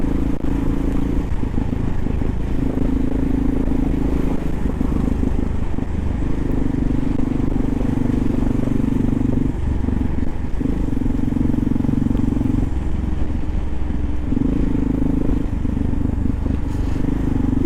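An older Kawasaki KLR motorcycle ridden through New York City streets, its engine droning steadily with rising and falling revs and a loose clatter, under continuous traffic noise.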